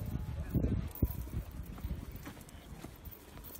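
Anglo-Arab horse hooves striking the ground at a show, a soft uneven clip-clop of several footfalls with one sharper thud near the start, under ambient arena noise.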